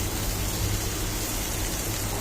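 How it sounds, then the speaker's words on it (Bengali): Onion, garlic, taro stolons and hilsa fish sizzle in hot oil, a dense, steady, loud frying hiss that runs unbroken and close throughout. "এটা কিন্তু ভেজে নিচ্ছি এই তেলের মধ্যে।"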